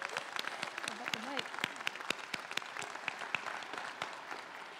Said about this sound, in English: So one big round of applause to everybody here.